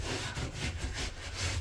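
Loose debris is scrubbed by hand from a small hole in drywall, giving rhythmic rasping back-and-forth strokes, close and fairly loud, with no talk.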